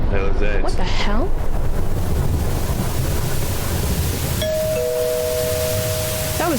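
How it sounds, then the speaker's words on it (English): In the horror video game Suffer the Night, over a windy, rushing storm background, a two-tone front doorbell chime rings out clearly, with a voice briefly heard at the start. "That was the front doorbell."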